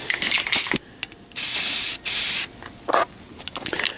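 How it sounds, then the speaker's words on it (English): Primer sprayed onto fiberglass door panels for an S10 truck project: two long, loud, steady hissing bursts from the spray nozzle, with several shorter spurts before and after, close up and with no talking. "it's okay to spray it on a little bit thick. It is primer"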